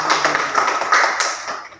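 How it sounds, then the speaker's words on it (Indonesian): Brief burst of audience applause from a group of students after a classroom demonstration, dense overlapping claps filling the whole moment and fading out at the end. "Ya, berikan aplaus."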